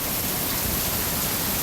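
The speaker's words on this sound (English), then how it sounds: "There's a lot of rain coming down right now." Heavy thunderstorm rain pours down in a dense, even hiss, loud and continuous with no breaks or voices.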